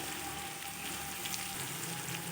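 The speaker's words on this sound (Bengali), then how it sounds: "আর অল্প চিনি দিয়ে আবারও কিছুক্ষণ নাড়াচাড়া করে নেব" Raw banana with spices, dried chilli paste, salt, turmeric and a little sugar frying in a pan, a steady, close, dense sizzle that hisses on without a break for the whole stretch, with no talk.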